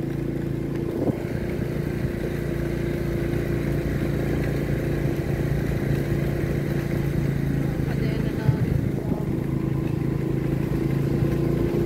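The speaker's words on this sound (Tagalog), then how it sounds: "Hirap po yung motor guys sa pag-ahon." A motorcycle engine labors steadily and loudly while climbing an uphill road in Barangay Kalimapola, Oriental Mindoro, a low continuous drone with a few brief knocks, like a bike climbing a rough slope.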